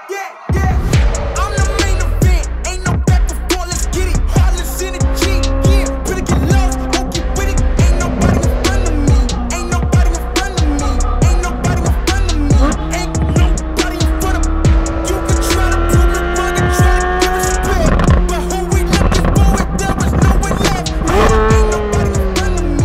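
2023 Chevrolet Corvette Z06 3LZ with the Z07 package driven hard, a loud close engine revving through repeated gear changes with sharp bursts and squealing tires.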